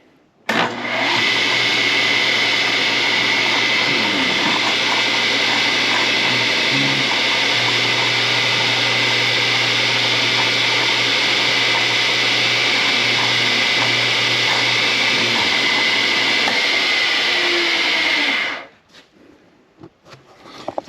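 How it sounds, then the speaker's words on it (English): A milling machine runs steadily with an edge finder spinning in the spindle during winch repair work, a loud continuous whirring hum lasting about eighteen seconds before cutting off abruptly. "So we're going to fire it up, and basically when I move it in and touch, it's going to wobble around"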